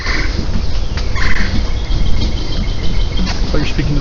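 Turkeys gobble outdoors on Dauphin Island, Alabama, a loud ongoing chorus of rattling calls over a dense insect and ambient background, with a voice speaking among them.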